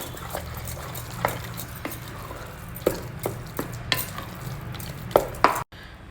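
Ingredients are mixed in a pan over a low flame during cooking for a festival dish, with soft irregular scrapes and taps of a spoon over a faint background sizzle, ending with a sudden cutoff.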